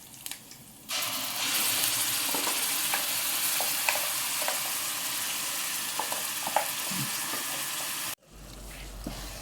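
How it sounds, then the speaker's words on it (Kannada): Onion chutney paste sizzles and crackles steadily in a hot pan, a loud continuous frying hiss with occasional stirring scrapes, cutting off abruptly near the end. "ಈಗ ಚೆನ್ನಾಗಿ ಫ್ರೈ ಮಾಡ್ಬೇಕು ಇದನ್ನ"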